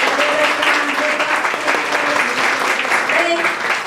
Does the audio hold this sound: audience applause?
yes